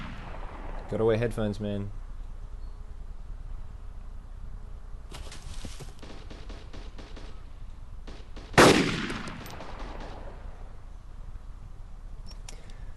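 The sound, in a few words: rifle gunfire from the video game DayZ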